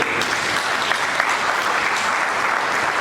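Audience applause fills a party rally for the PDCI-RDA, a steady dense clapping crowd sustained throughout, close and loud with no break.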